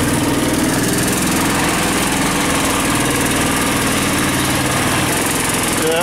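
A Taiga all-terrain vehicle engine drones steadily and loudly while driving through winter terrain, a continuous close mechanical roar with rattling vibration and no speech.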